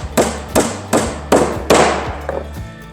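Bright nails are hammered into timber with a steady run of five close, solid hammer blows about half a second apart, each ringing briefly, then a few lighter taps as the last nail goes home.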